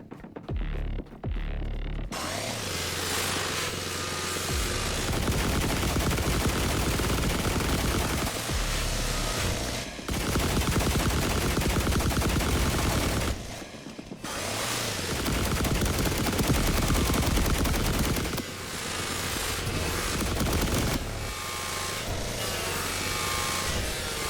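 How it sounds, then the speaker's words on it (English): Gunfire from The Last Caretaker video game as enemies shoot through walls, a loud dense stream of rapid automatic shots that continues in long bursts with brief pauses. There is no talk. "they noticed me and they're trying to shoot through the walls"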